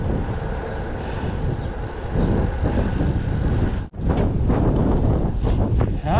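Steady wind buffets the microphone during a bike ride in the UK with a loud, low rumble that continues throughout, briefly dropping out once before resuming.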